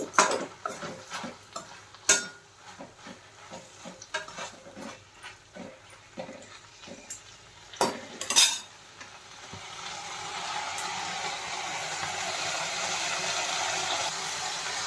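Ponnaganti leaf chutney cooks in a pan, a spoon scraping and clinking in irregular strokes at first, then a steady soft sizzle taking over.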